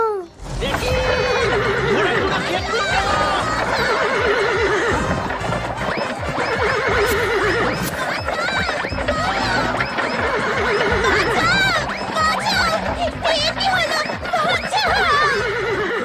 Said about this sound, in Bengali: দেখি ঘোড়াগুলো খেপলো কেন?